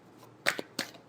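Tarot cards are shuffled in two or three quick, crisp riffling bursts, close and fairly quiet, over near silence.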